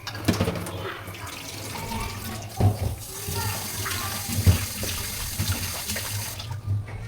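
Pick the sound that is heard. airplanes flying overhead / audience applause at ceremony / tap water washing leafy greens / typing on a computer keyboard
tap water washing leafy greens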